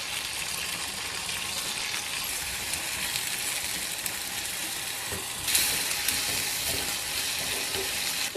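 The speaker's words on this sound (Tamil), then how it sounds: "நல்லா இன்னும் கொஞ்சம் வதக்கணும்." Ivy gourd (kovakkai) sizzles steadily as it sautés in oil in a pan, a constant crackling hiss with a brief louder burst partway through as it is stirred.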